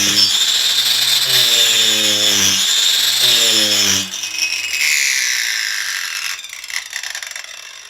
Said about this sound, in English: I've used one of these grinding discs on an angle grinder